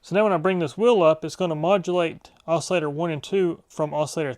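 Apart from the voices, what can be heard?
None of the usual background noises is heard.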